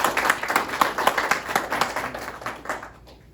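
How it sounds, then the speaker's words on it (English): An audience claps for a student before her senior presentation, a lively burst of many hands that gradually thins and fades out toward the end, with no talking over it. "let's give Arianna Cameron a round of applause"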